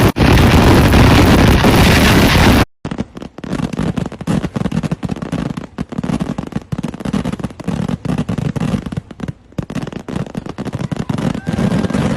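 Dense, rapid crackling bursts of fireworks at the Kavasseri Pooram temple festival in Kerala go off continuously at a distance. A loud, sustained blast opens before a brief gap.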